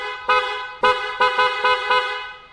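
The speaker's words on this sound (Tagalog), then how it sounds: "Sound check natin yung busina, boss." A loud truck-style horn fitted to a Vespa 946 Emporio Armani scooter blasts in several close, brassy honks, one longer blare followed by quick repeated toots, with no talk over it.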